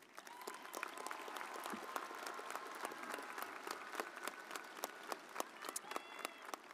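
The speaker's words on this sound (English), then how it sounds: "Please join me in a round of applause." Audience applause at a high school commencement ceremony, a steady, sustained round of clapping from a large crowd heard from a distance, fairly faint and even throughout with no talking over it.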